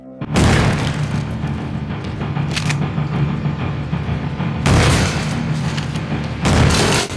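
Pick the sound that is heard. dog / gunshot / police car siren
gunshot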